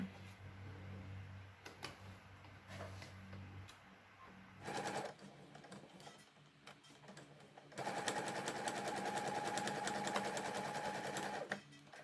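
A sewing machine stitches a folded fabric bag handle, with short bursts of stitching followed by a long steady run, close and fairly quiet.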